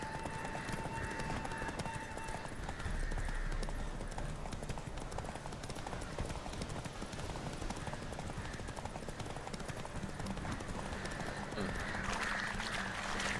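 Horses gallop in a race in The Witcher 3 video game, a steady clip-clop of hooves running under continuous game music and ambience, with an occasional neigh and a brighter swell toward the end.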